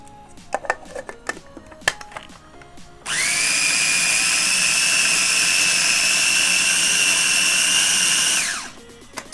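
Food processor chopping fresh basil: a few light clicks and knocks, then a loud, steady high motor whir that runs close for several seconds before winding down.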